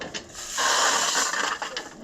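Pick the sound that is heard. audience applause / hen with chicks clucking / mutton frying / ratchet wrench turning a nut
ratchet wrench turning a nut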